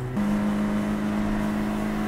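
A race car engine drones steadily at high revs from inside the car on the Snetterton circuit, with a sustained tonal whine and no pauses after a brief shift at the start.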